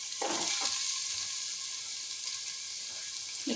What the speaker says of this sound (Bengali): এখানে যে কুমড়োটা আছে কুমড়োটাকেও আমি একটুখানি ভেজে নিচ্ছি।